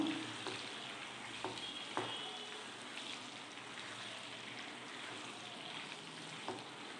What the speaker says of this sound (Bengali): তেলের মধ্যে এটা একটু নাড়াচাড়া করব।